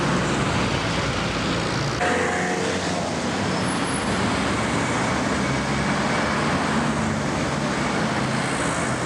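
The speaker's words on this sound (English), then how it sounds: "What do you think of the traffic in this city?" Constant road traffic in Oxford city streets rumbles loudly as cars and buses pass nearby, a steady roar with a shift in vehicle sound partway through, no talking heard.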